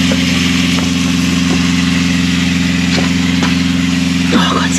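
Electric water pump for an outdoor shower, switched on and running with a loud, steady motor hum and drone, close up, with a few faint knocks over it.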